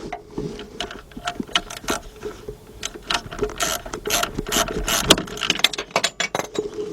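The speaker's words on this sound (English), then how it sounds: "when I go to tighten up with the ratchet, that's all I want to do is go till it barely stops" A hand ratchet tightening the alternator belt bolt on a 2001 Saturn L300 with a 3.0 engine, giving rapid, close clicking in uneven bursts with some metallic tool clatter.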